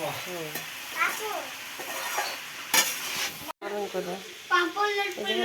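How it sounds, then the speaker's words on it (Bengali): Peas and potatoes for Bengali ghugni being sautéed in a pan, with a spatula scraping and clinking against the metal over a soft sizzle while voices murmur in the background. "মটর আলু দিয়ে ঘুগনি হচ্ছে, কষানো হচ্ছে এখন"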